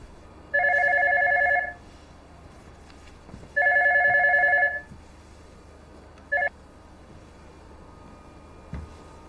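A telephone ringing in a quiet room, two long electronic ring tones a couple of seconds apart followed by a short cut-off burst, clear and fairly close with faint background noise.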